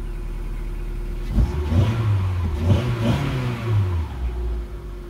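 A Seat Ibiza 1.4 petrol engine, after throttle body cleaning, cranks and fires up close by, revving briefly before settling into a steady idle hum, with no talking.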